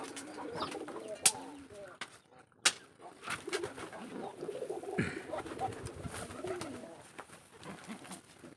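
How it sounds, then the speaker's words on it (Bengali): Native pigeons at a farm in Bangladesh gather to eat feed at midday, with cooing and soft calls, scattered wing flaps and pecking over steady low farmyard noise, a few sharp knocks standing out. "আমার এই কবুতরগুলোকে খাদ্য দিচ্ছি এবং এইগুলা কিভাবে তারা আমার পাশে এসে খাচ্ছে আপনারা দেখুন"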